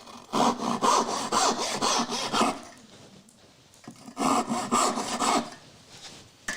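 Two bursts of hand sawing through wood with a dovetail saw and a heavy rip saw, each a run of quick rasping back-and-forth strokes lasting about two seconds, separated by a quiet pause, close and fairly loud.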